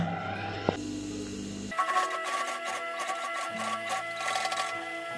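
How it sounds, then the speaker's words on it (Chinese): A sewing machine with a single-sided presser foot stitches a 1 cm seam along the edge of a floral fabric bag, a steady mechanical whir with a rapid needle rhythm, close and fairly loud, starting after a short quiet pause. "沿着这个边缘车缝1厘米。"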